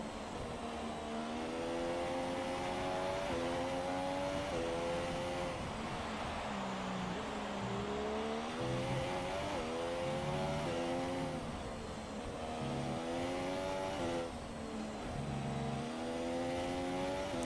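A Formula 1 race car engine in the F1 2017 video game at Hungary, whining and droning steadily through repeated rises and drops in pitch as it accelerates and shifts gears on smooth laps, with no talk.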